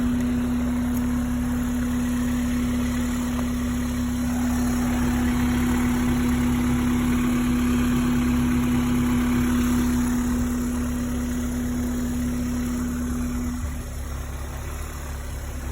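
A 2002 Honda S2000 convertible's four-cylinder VTEC engine idles steadily just after startup, a close, even hum with a constant tone that eases slightly near the end.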